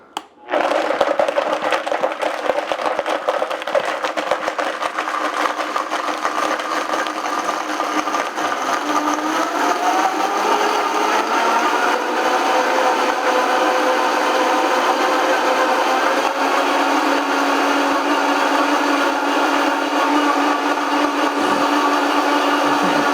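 A blender whips up an iced frappe for close to half a minute, its motor roaring loud and steady from start to finish while the pitch slowly shifts as the ice and liquid break down.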